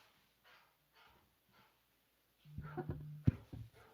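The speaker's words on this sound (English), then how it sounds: "Love the barking dog." A dog gives a few faint, soft sounds early on, then a louder burst of barks and yips near the end, close and distinct over an otherwise quiet background.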